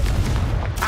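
A Confringo blasting spell goes off in the Hogwarts Legacy video game: one loud, continuous booming rumble with a burst of crackle, lasting about a second.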